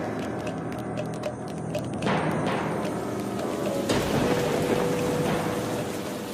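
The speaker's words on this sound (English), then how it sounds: "At the end of the month of May, heavy rain falls on southern Niger." Heavy late-May rain falling on southern Niger's savanna, a steady dense hiss of downpour with deeper thuds of thunder swelling in around the middle and again toward the end.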